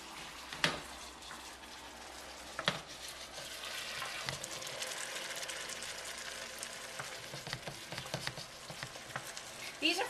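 Shrimp with fresh tomatoes and basil simmer and reduce in a pan. A soft, steady sizzle and bubbling runs throughout, broken by a few sharp clinks of a utensil against the pan.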